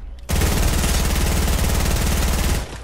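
SMG fire in a video game: one loud, unbroken burst of rapid, evenly spaced shots lasting over two seconds, then cutting off abruptly.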